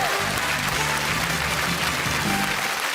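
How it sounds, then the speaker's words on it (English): Studio audience applause on a television game show greeting a contestant, a full, sustained burst of clapping that stays loud and even across the whole stretch. "Give him a round of applause"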